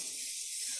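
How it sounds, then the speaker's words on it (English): Cooking spray hisses steadily from a can onto a preheated grill, a close, continuous spray lasting under a second with no voices. "make sure you just spray it down with some"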